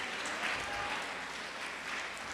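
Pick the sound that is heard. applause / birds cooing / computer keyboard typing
applause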